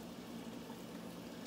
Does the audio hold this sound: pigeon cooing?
no